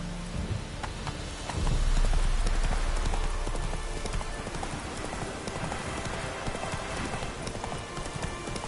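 A horse's hooves clip-clop steadily in The Witcher 3 video game, a brisk, continuous trotting rhythm set against a rain-like wash of ambient noise, with a brief louder rumble early on.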